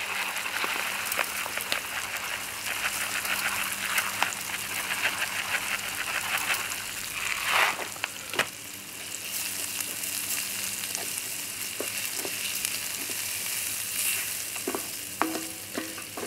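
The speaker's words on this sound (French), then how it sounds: "dès que mes oignons commencent à brunir, je vais mettre mon riz." Rice fries with browning onions in a pan on a Cobb Premier portable barbecue, a steady close sizzle and crackle that runs throughout, with occasional clicks and scrapes from stirring.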